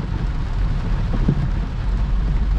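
Heavy rain pours over a BMW driving through flooded roads in cold Bangalore weather, a steady, dense wash of water noise with a low road rumble beneath it and no talking.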